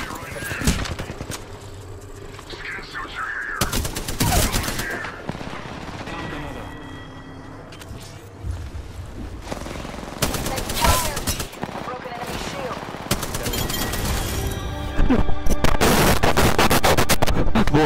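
Rapid bursts of gunfire erupt in an Apex Legends match, loud and repeated volleys with brief gaps, while players talk excitedly over the shooting.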